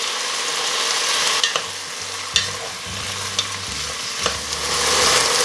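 Onion and vegetables sautéing in a pan with salt and oregano for chicken ajiaco, a close, steady sizzle broken by a few spoon scrapes and knocks against the pan, no voices.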